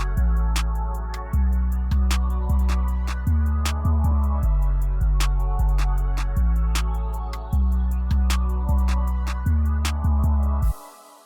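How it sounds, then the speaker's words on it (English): A steady hi-hat pattern with occasional quick rolls, ticking over a sustained bass line that shifts notes in a looping groove. "So really basic 2-step hi-hat with 2 rolls added in,"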